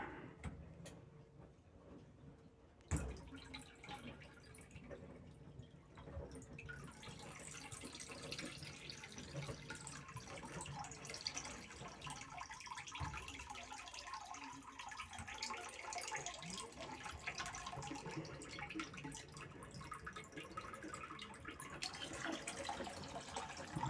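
Water trickling and splashing steadily from an Atlantic heat pump's three-way valve during replacement, a faint continuous running flow with a sharp knock near the start.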